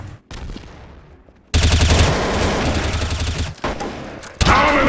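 Rapid bursts of gunfire ring out in Counter-Strike Source on the de_dust map, loud and close, with a sharp shot, a pause, then dense automatic fire and another burst at the end.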